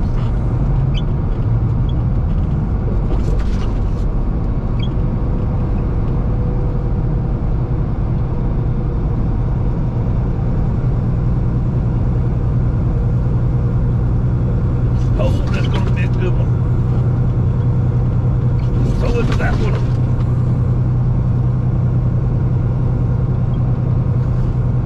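A car drives along interstate I-840, giving a steady loud low road and engine drone from inside the cabin, with a few brief higher swishes of passing traffic and a person talking over it.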